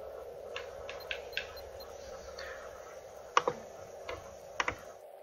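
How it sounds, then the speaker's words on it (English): Quiet keyboard typing with scattered clicks, some single and some in short pairs, over a low steady hum during Xbox 360 gameplay. "If y'all can hear clicking and it annoys the crap out of you, then I'm sorry."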